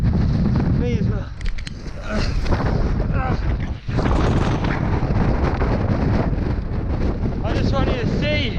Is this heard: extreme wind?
yes